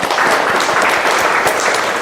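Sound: audience applause

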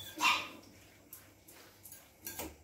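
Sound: dog barking

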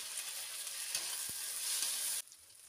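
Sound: onion and tomato frying in a pan

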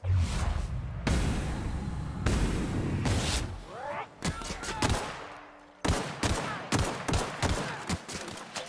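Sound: gunfire shooting at the player in the video game The Outer Worlds

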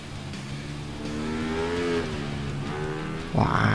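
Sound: motorcycle engine revving in video game GTA V

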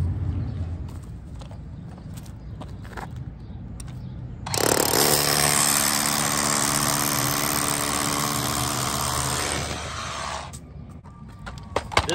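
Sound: drill drilling holes in blacktop for termite treatment

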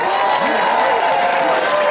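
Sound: applause

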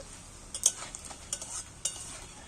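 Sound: eggs frying and sizzling in a pan

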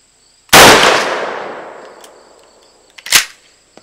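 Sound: iGun smart gun firing downrange

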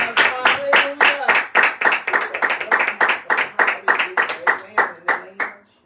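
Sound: congregation clapping in praise

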